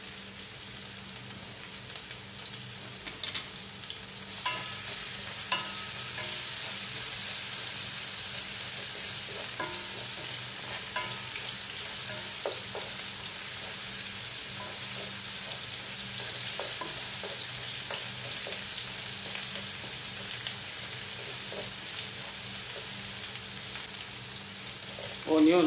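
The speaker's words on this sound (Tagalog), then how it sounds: "So, bawang muna ang ating igisa." Garlic sautéing in hot oil in a pan, a steady bright sizzle holding for about twenty seconds with occasional soft stirring scrapes, close and even.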